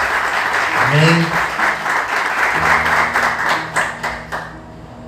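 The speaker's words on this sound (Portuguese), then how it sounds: "Vamos aplaudir Jesus com bastante alegria." A church congregation breaks into sustained, steady applause, the clapping dense and close, with a voice speaking over it partway through.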